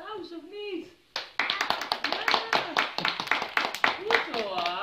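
After a voice speaks, a small group claps in close, lively applause that continues to the end, with brief voices mixed in, at a children's read-aloud session.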